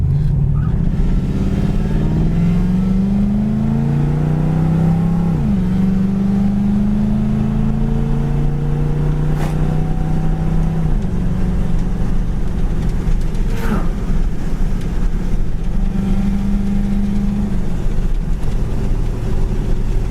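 A 1978 Pontiac Trans Am engine runs steadily while driving, its low drone rising through gear changes with a couple of shifts as it pulls along. The sound is close and continuous.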